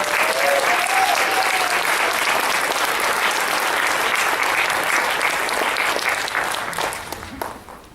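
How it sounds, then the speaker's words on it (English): Sustained audience applause fills a mental health awareness event, dense and steady clapping from a crowd for about seven seconds before tapering off at the end. "Kelly, we need to give you one more applause."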